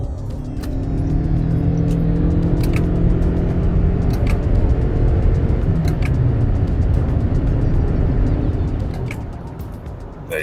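A new Toyota Camry hybrid accelerates hard in sport mode, its engine drone rising steadily in pitch over road and tire roar, sustained and fairly loud before easing off at the end.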